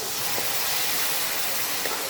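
Spice masala of chilli and coriander powder sautéing in oil with a splash of water for mutton ghugni, a soft, even hiss that stays constant and quiet throughout.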